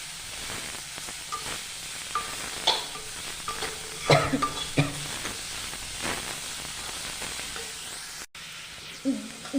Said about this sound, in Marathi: व्यवस्थित हलवून परतून घ्या. व्यवस्थित परतून घ्या.